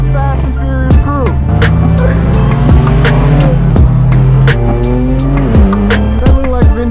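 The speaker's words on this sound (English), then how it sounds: "We're driving my straight pipe M4 with the Fast and Furious crew." A straight-piped BMW M4 F82 at a Fast and Furious car meet roars loud and close, its engine note sweeping through repeated rev rises and sharp drops, with a few crisp cracks punctuating the run.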